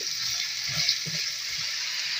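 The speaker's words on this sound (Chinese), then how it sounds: "跟住加入排骨同埋薯仔，大火炒佢10分鐘" Spare ribs and potatoes sizzle steadily in a wok over high heat, a constant hiss of frying with a few soft stirring knocks underneath.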